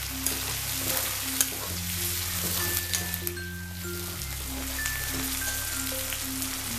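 Chopped tomatoes fry in a pan for a dinner of rustic village-style chicken, giving a steady crackling sizzle with faint stirring, while a humming tone and short beeps sound in the background and no one speaks.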